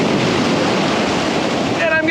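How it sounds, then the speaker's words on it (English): Ocean surf at Santa Rosalillita, Baja California, crashes loudly around a surfer in the water, a dense roaring wash of waves mixed with heavy wind buffeting on the microphone, continuous throughout. "I'm getting pummeled by waves"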